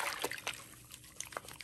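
Water trickles and splashes softly while a luminous white Chanel Coco Mademoiselle bath soap is worked into a creamy lather, a close, gentle patter with brief splashy bursts.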